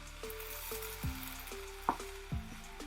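Cauliflower rice with egg sizzling in a pan as it is stirred, a faint crackle beneath quiet clattering of a utensil against the pan, with a few soft knocks spaced through.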